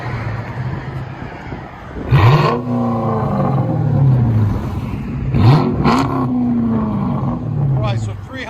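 A Lincoln Town Car V8 fitted with a Dynomax race exhaust revs hard twice, each blip rising to a loud roar and falling back to a deep idle burble, with people talking and reacting nearby.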